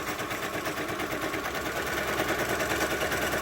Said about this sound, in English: I'm just going to stitch